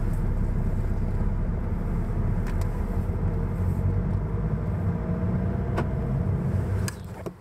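A car drives along a road in Austria, its engine and tyre rumble steady and close from start to finish, easing off in the last half second.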